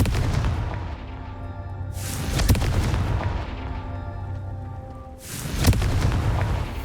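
Confringo fire spell blasts in the Hogwarts Legacy video game, two loud booming explosions a few seconds apart, each with a sharp crack and rumbling tail over a low game ambience.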